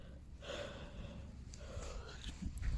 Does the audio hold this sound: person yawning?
yes